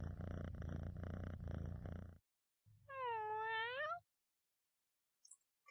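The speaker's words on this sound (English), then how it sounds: "The cat's purring is getting kind of loud in my ear" A cat purring in a low, rapid rumble for about two seconds, then a short purr leading into a clear, drawn-out meow, followed by silence and a faint brief chirp.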